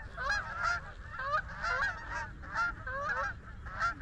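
Geese honking in a steady chorus of repeated calls during a goose hunt in Pennsylvania, fairly close and loud, with no voices.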